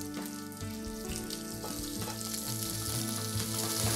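Small onions, garlic, mustard seeds, cumin, fenugreek and curry leaves fry in sesame oil in a pan, giving a steady close sizzle with soft stirring scrapes and no talk.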